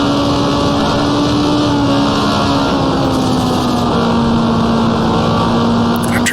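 A turbocharged 1978 USAC Indy car engine at Trenton Speedway in the Automobilista racing game drones loudly and steadily at part throttle, a constant buzzing tone holding with a faint high turbo whine throughout.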